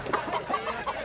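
A rooster clucks in a run of short, repeated calls at close range, with no talking over them.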